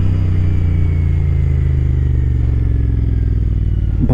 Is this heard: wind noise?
yes